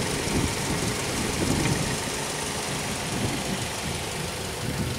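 A Mazda3's 2.3-liter dual overhead cam, 16-valve four-cylinder with variable valve timing runs at a steady idle, a close, even engine rumble with a faint ticking texture and no talk.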